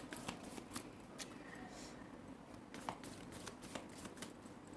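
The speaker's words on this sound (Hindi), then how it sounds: "जब तक मैं कार्ड शफल कर रही हूँ" Tarot cards being shuffled by hand, a soft papery riffling and flicking with repeated light slaps, fairly quiet against a low steady background hum, no voices.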